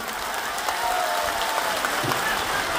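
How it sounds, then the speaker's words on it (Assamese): Audience applause at an outdoor BJP election campaign rally in Assam, a dense steady clatter of many hands clapping throughout, fairly close and sustained. "এটা হাত চাপৰি বজাবৰ বাবে অনুৰোধ কৰো"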